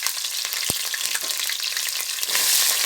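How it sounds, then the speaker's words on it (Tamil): Cinnamon, cloves, cardamom and green chillies frying in hot oil for a biryani, a steady dense sizzle throughout with a sharp pop near the start, rising slightly louder toward the end, no voices. "எண்ணெய் காஞ்சிடுச்சு பட்டை கிராம்பு ஏலக்காய் போட்டுருவேன் பொருந்துச்சு பச்சை மிளகாய் போட்டுருவேன்"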